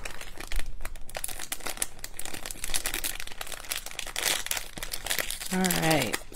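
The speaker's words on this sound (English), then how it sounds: "Sorry for that crinkling noise." Packaging crinkles and rustles up close while earrings are sorted during a jewelry class, continuous scratchy crackling at moderate level, with a short tonal sound near the end.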